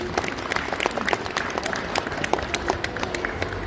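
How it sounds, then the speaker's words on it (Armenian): Children at a community event applaud together, a steady patter of many small hands clapping at a moderate distance, continuous and fairly even throughout. "Ծափարենք, մենք ծափարում ենք։"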